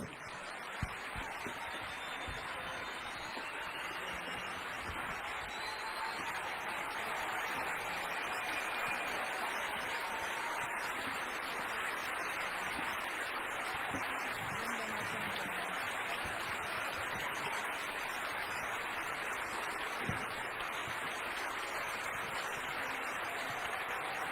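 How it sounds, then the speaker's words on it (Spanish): At a public talk in Santa Fe, steady applause from a large audience, a dense even patter of clapping that continues without a break. "Un fuerte aplauso para ellas."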